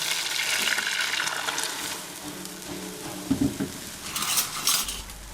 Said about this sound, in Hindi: और साथ चम्मच हिलाते जाएंगे